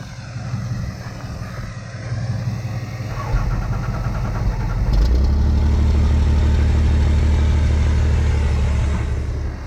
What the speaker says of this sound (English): crank up the old 12 valve, and there's just a little bit of difference